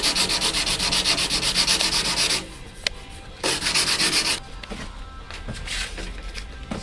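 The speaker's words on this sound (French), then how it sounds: "on va chercher à obtenir une finition en passant de grain en grain" Sandpaper sanding a longboard deck, working through grits: steady close rasping strokes in two long loud bursts separated by quieter, softer rubbing, with no talking.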